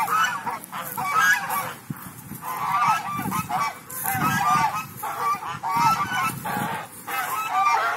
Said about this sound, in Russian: Прикольные гуси.